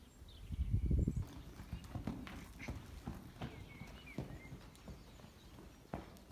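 A horse's hooves clip-clop at a trot during groundwork training, a steady rhythmic beat at moderate distance after a louder thump at the start, with no talking over it.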